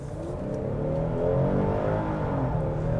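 A 2021 Hyundai Palisade Calligraphy SUV's naturally aspirated engine accelerating, a smooth rising drone climbing steadily in pitch and growing slightly louder, heard alone without talk.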